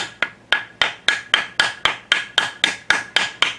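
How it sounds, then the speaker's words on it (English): A small hammer strikes a conch shell about twelve times in a steady rhythm, each sharp, close knock ringing briefly before the next. "it takes a few more bangs with the smaller hammer"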